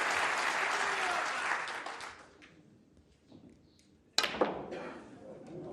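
A snooker crowd at the 2023 World Championship applauds Mark Williams, with steady clapping that fades to near quiet, then a sharp renewed burst of applause.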